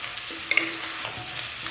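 Deep-fried arrowhead tubers are tossed in a wok with garlic chili sauce and soy sauce, giving a soft continuous sizzle with a few sharp scrapes and clinks of the spatula against the pan.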